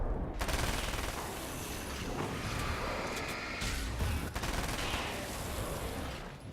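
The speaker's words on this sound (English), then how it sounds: "Eat machine gun." Sustained machine gun fire in Alan Wake's American Nightmare, a dense, continuous rattle of automatic shots filling the whole stretch with a few louder bursts, with no voice over it.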